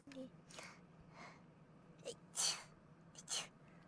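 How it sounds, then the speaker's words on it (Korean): Small, cute-sounding sneezes from streamers in a compilation, a few soft breathy bursts spread across the moment, with quiet vocal sounds between them. "이게 재채기라고요?"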